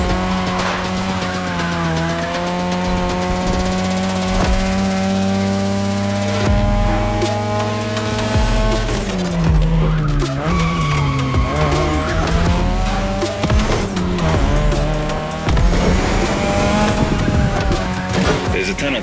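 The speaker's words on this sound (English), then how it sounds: "Tonight, your ride is a 3rd Gen 2002 Mazda RX-7. Lightweight, compact, a sick rotary engine" Mazda RX-7 2002 third-generation with a rotary engine races and skids in The Crew Motorfest, a loud sustained engine whine rising and falling through gear changes with tire squeal, steady and close throughout.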